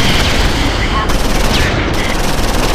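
Gunfire in the Close Combat 5 battle game, dense bursts of shots and rattling fire packed together over a few seconds, loud and continuous.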